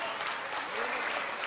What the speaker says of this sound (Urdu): زوردار تالیوں